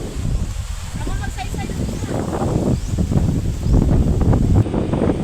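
Blustery wind buffets the microphone at an outdoor park with low rumbling gusts that rise and fall, and a voice is faintly present beneath it.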